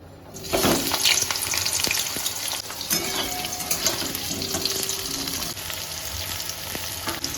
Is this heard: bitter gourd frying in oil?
yes